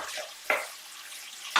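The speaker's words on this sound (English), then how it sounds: "give it a big stir" Tofu and vegetables frying in a pan are stirred in three short, scraping bursts over a faint, steady sizzle.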